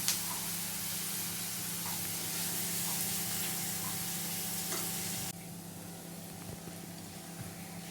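Sliced onions sautéing in a pan of oil for mushroom masala, a steady close hiss of sizzling that continues throughout, with no talking, dropping a little quieter partway through.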